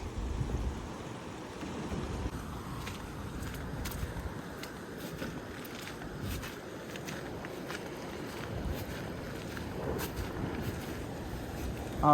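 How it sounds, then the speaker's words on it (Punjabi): Steady rushing water of the fast-flowing, swollen Sutlej River with a broad turbulent roar and gusts of wind, continuous throughout and fairly loud, with no voices. "ਦੇਖੋ ਬਹੁਤ ਤੇਜ਼ ਪਾਣੀ ਆ ਇੱਥੋਂ"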